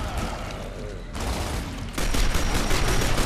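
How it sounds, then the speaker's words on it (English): Pistol fire from the game Gears of War Ultimate Edition comes as loud, dense, rapid gunfire in a near-continuous barrage that swells louder partway through. "Pistol shots"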